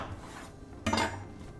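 A knife cuts through a small onion on a board with one short, crisp crunch and scrape, standing alone against a quiet, faintly humming kitchen.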